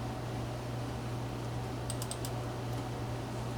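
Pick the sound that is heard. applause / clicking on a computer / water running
clicking on a computer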